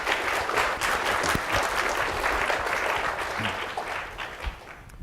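An audience applauds to welcome speaker Kevin Esvelt at a talk on gene drive research, loud steady clapping from a crowd that holds for several seconds and tapers slightly at the end.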